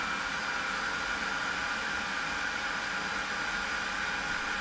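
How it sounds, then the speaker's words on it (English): An Ingco 20V cordless leaf blower with a brushed motor and a non-variable speed trigger runs steadily, giving an even, continuous rushing whine with a high tonal hiss and no change in speed. "next up, the non-variable speed trigger with the brushed motor."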